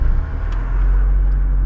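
A Ford Escort car engine catches and settles into a deep, steady low rumble close by, with no voices over it.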